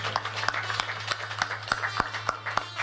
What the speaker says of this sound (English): Let's give Prabhu and Omati a round of applause